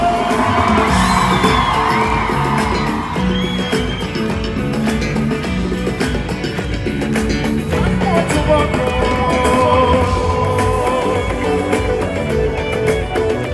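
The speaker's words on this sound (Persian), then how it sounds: "صدای جیغا بیاد" A packed concert hall in Ramsar, at a concert, fills with loud, continuous screaming, whooping and cheering throughout, with shrill yells rising over a dense crowd roar and music underneath.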